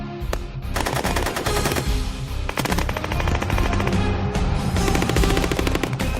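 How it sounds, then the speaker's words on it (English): A 25 mm Bushmaster cannon fires from an LAV armoured vehicle on a military training range, loud rapid bursts of shots with short pauses between them and no speech. "Only one of the 4 LAV gunners is using his Bushmaster cannon as if he means it."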